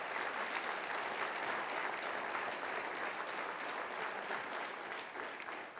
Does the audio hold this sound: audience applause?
yes